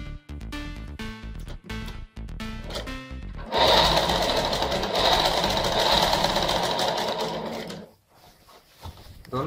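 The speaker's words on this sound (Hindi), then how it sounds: "और फिर आपको ये सिलाई इसके ऊपर फेर देनी है।" A sewing machine stitching a petticoat, a few short stop-start bursts, then a loud continuous whirring run of about four seconds before it slows and stops, close up, with no talk.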